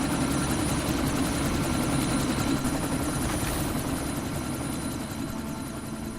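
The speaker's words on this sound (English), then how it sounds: "That chopper's about to take off." A helicopter about to take off in the video game Deus Ex, heard as a loud, steady engine drone with rapid rotor thumping, continuous and close, with no talk.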